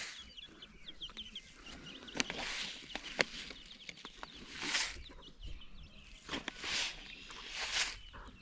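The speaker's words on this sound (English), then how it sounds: "get the little baby chicks to come up, and they can all sort of eat together" A backyard flock of chickens with baby chicks clucks and peeps nearby, with scattered soft calls, rustling and footsteps over a quiet outdoor background.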